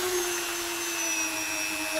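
A Biospec Tissue Tearor homogenizer runs at high speed, up to 35,000 RPM, giving a steady, thin motor whine with a strong sustained tone. It is continuous and even throughout, with no voices.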